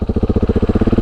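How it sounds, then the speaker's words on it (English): A single-cylinder engine on a 2019 KTM 690 SMC R motorcycle thumps close and loud in a fast, even pulsing rhythm. "Still love that single cylinder engine."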